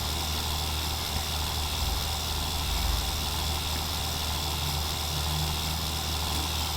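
A tractor engine idles in the Farming Simulator 19 video game, a steady low rumble with constant broadband noise that holds level throughout without revving.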